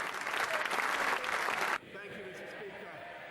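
British parliamentarians give a prolonged standing ovation, thick continuous applause that cuts off abruptly partway through, leaving a quieter room tone with faint murmuring.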